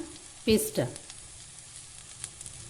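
A paste of onion, garlic, green chilli and fried cashew hits a hot pan for a chicken korma, giving a short burst of sizzle and stirring and then a faint, steady frying hiss.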